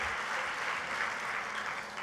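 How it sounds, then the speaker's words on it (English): Applause at a women's leadership conference for board members, a soft, steady patter of many hands clapping at some distance, with no voices over it. "Let's give them a big round of applause."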